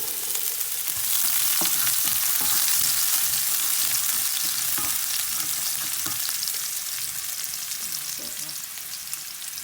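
Onions frying in a pan with beef steak, a steady loud sizzle with occasional stirring clicks, continuing throughout with no talk.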